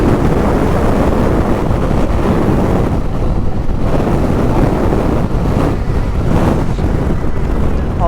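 Heavy, steady wind roar buffets the microphone from a Yamaha Tracer 900 GT motorcycle accelerating hard in sixth gear. The rushing noise stays loud and continuous, and any engine note is buried beneath the wind.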